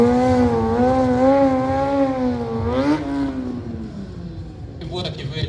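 A stunt motorcycle's engine runs loud and close at the Kickback Rod and Custom Show in Malvern, holding a steady, wavering drone that rises briefly in pitch before easing off.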